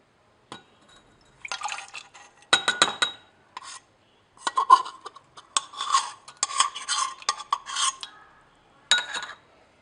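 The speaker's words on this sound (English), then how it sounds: "Now we'll get the contents into a beaker." Potassium permanganate solids scraped from a pot into a glass beaker, giving scattered bursts of clinking and scraping with short pauses between, close and moderately loud.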